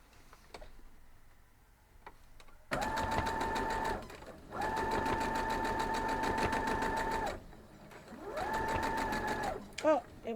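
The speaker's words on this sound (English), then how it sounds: "So let's go sew these up." A sewing machine stitches fabric squares together in three steady, buzzing runs, separated by short pauses with soft handling clicks, close and fairly loud.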